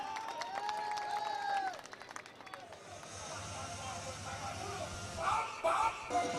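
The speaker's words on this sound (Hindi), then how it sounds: "आपकी तालियां बजनी चाहिए मित्रों" After a voice and tones, an audience at a Barmer Premier League cricket awards ceremony breaks into broad, sustained applause honouring the man of the match, with crowd noise swelling toward the end.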